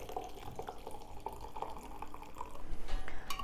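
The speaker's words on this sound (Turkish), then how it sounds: "bizim kaynatmamızı içeceğimizi üzerine döküyoruz. Süzgeçten geçiriyoruz." A cooled boiled cinnamon drink pours through a strainer into a container, a close, continuous liquid trickle with small splashes that swells slightly toward the end.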